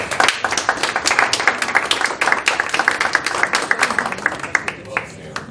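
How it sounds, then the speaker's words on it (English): A round of applause at a public drainage district meeting with residents, brisk crowd clapping that starts dense and thins into scattered individual claps before fading out. "It's nice to get a round of applause"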